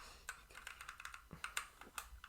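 Quiet, quick keystrokes tap on a computer keyboard in an irregular run of about a dozen clicks, close and faint.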